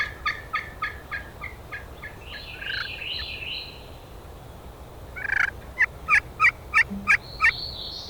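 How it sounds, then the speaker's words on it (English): A wild turkey gobbler gobbles in Mississippi woods during a spring hunt, with a run of rapid gobbles at moderate distance followed by a closer, louder string of sharp gobbling bursts, while other birds call faintly in the background. "We're going to sit tight and wait for this gobbler to get in the woods."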